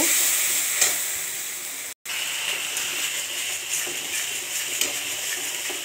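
Spices with turmeric and salt sautéing in a pan for a rohu fish and potato curry, a steady close sizzle with a few scraping stirs, a brief cut to silence partway, no voices.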